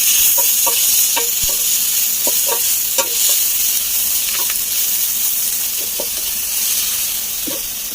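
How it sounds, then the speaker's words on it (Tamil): Tomatoes sautéing on a clay stove on a rooftop terrace, with a loud, steady sizzle and hiss and occasional light taps and scrapes of a stirring utensil. "நான் வதக்கிறேன்"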